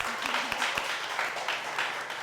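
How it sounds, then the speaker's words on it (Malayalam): A short burst of applause for a teacher at an Onam school gathering, a fairly soft, dense patter of clapping lasting about two seconds. "ധന്യ ടീച്ചറിന് ഒരു നല്ല കയ്യടി കൊടുത്തേ വീണ്ടും."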